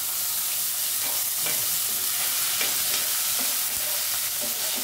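Miso sautéed with tomato and garlic, no onion, sizzles steadily in a pan while a utensil stirs, giving soft scraping clicks over a continuous frying hiss.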